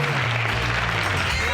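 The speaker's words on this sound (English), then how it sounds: "Let's give her another standing ovation." Audience giving a standing ovation at a live talk event with Suze Orman, sustained steady clapping from a large crowd, loud and continuous throughout.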